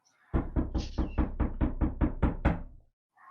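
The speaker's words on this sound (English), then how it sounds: "You hear a knock at the door." A door is knocked on with about ten quick, close, solid raps in a steady run, fairly quiet and alone, followed by a brief faint sound at the end.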